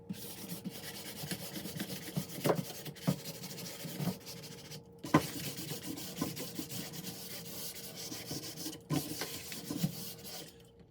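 Hand scuff sanding of furniture veneer trim before painting it gold: a steady, dry rasping rub with repeated strokes and a few short pauses, close and alone with no talk.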